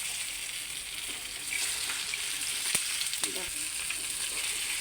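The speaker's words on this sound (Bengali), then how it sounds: "তেল ছিটা আসবে তুমি যাও খাওয়ার লেগে দিয়ে দিও আমি ভেজে নিয়ে আসছি" Flour-and-egg snack frying in hot oil, a steady close sizzle with fine crackling and a few sharper pops, loud and continuous with no talk.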